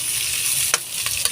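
Vegetables stir-fried in a hot pan for sweet and sour chicken, a steady close sizzle with a few quick scraping stirs breaking through.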